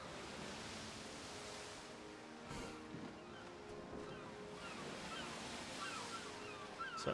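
Steady rushing surf of a perilous misty sea surges around a sailing ship in EverQuest II, a dense, continuous wash with occasional louder swells, with no voices over it.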